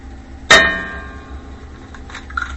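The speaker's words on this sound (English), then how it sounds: "I just wanted to hear it ring off that cast iron." An egg is struck against a cast iron pan, giving one sharp metallic clang with a bright ringing tone that decays over about half a second, followed by quieter kitchen handling sounds.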